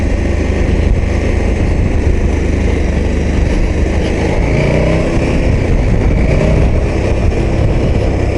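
A KTM 1290 Super Adventure S motorcycle engine pulls hard under acceleration, a loud continuous roar close to the rider with wind rush, rising in pitch through the revs.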